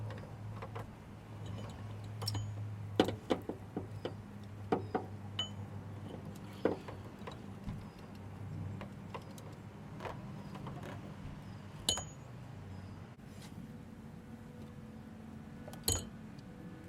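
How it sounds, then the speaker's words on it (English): Camshafts being worked loose from the cylinder head of a Honda K20/K24 engine: scattered light metallic ticks and clinks, close and fairly quiet, over a low steady hum. "I'm going to just wiggle these cams out"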